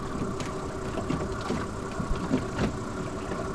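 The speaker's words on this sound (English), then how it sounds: "You can probably hear the wind generator in the background." A wind generator on a boat at anchor hums and whirs steadily in the background, a faint continuous drone with a few soft knocks and no talking.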